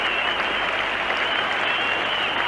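A cricket crowd at a 1975 World Cup match between England and India rises to applaud Dennis Amiss's innings of 137, steady dense clapping filling the ground without a break, heard at a distance.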